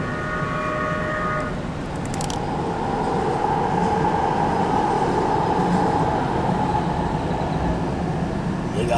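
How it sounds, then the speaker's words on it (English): A train passes along a rail line, its steady broad rumble and wheel noise filling the scene from start to finish, with a brief high tonal squeal or horn-like tone early on and nobody talking. "oh, look at the train. I didn't know a train came here."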